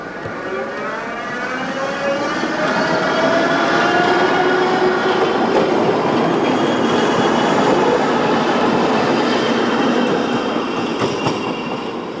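Budapest tram number 41 in 1989 rolls along its rails with a loud, steady rumble and rising and falling wheel squeal, passing close by, no voices.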